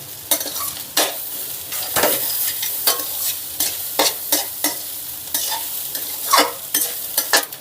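Egg fried rice tossed rapidly in a pan with sauces, giving loud rhythmic scraping and stirring strokes with a steady sizzle underneath, close and with no talk.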